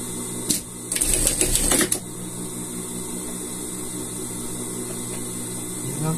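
A sewing machine stitches elastic into a seam: a short, close, buzzy run of rapid stitching lasting about a second, with a steady low hum before and after it.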